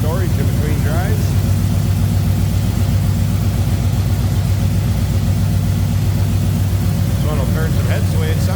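A 1969 Chevrolet El Camino with a 396 engine idles in a steady, deep rumble throughout, with a voice briefly audible near the start and again at the end.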